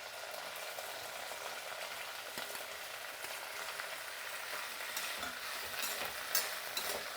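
Okra frying in oil in a kadai, a soft continuous sizzle with occasional stirring scrapes and clicks, fairly quiet and without speech.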